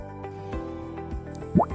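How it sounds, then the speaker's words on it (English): Coffee fruits dropped into water during wet processing after harvest: soft, close drips and small splashes, ending in a louder plop. "After harvesting coffee fruits are immersed in water."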